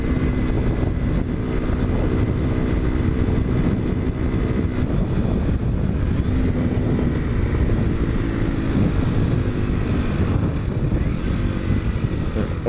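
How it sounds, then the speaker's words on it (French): A Kawasaki Z125 motorcycle with an aftermarket Arrow exhaust fitted with its baffle, its engine giving a loud, continuous low rumble that stays steady and close throughout, with no talk. "On entend bien le pot à roue. C'est un beau petit bordel."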